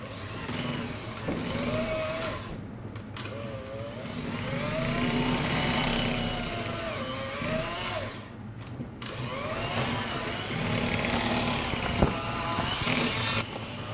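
Tiramisu cheesecake filling being blended with coffee flavouring, a steady loud motorized whirr, like an electric mixer, running continuously throughout with brief dips in pitch.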